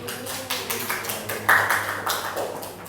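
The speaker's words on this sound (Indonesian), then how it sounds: "berikan tepuk tangan" Students in a micro-teaching classroom clap together in a brisk, rhythmic pattern of sharp, fairly loud claps, evenly spaced, with a faint voice-like tone at times.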